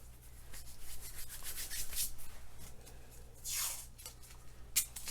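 Strips of painter's tape being pulled and pressed onto a repaired clay pot, giving soft rubbing and crinkling sounds close by, with a brief sharp rip near the end.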